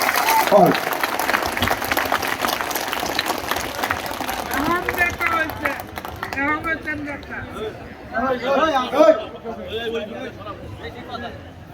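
Loud crowd applause at a BNP party conference on an open field, dense clapping for the first half that thins out while someone talks over and after it.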